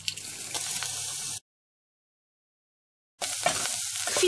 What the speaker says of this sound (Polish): Dwa ząbki czosnku drobniutko siekam lub przeciskam przez praskę i dodaję do oliwy.